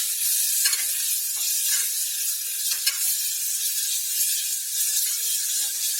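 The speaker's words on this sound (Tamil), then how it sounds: "இஞ்சி பூண்டு இதையும் நல்லா அப்படியே கையோட வதக்க வேண்டியதான்" Ginger and garlic sauté in a pan, stirred by hand, for an Indian vegetable curry. A steady, bright sizzle runs throughout, broken by a few soft scrapes and clicks, close up with no talking.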